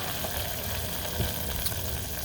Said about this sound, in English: Alright, so our peas are boiling.